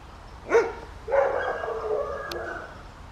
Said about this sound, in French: il y a un chien qui est lâché là